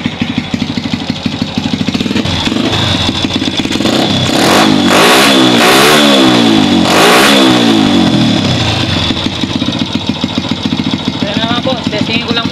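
A motorcycle engine with a 56 big valve, freshly carburetor-tuned, idles and then revs sharply several times in quick bursts before settling back, loud and close, with speech over parts of it.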